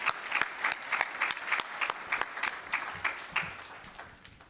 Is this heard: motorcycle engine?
no